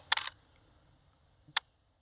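A digital SLR camera shutter fires outdoors in snow: a quick double-click burst near the start, then a single sharp click a moment later, close and crisp against quiet.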